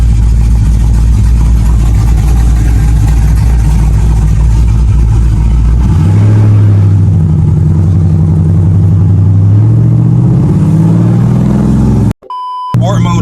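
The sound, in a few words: aftermarket cammed SRT car engine chopping on a drive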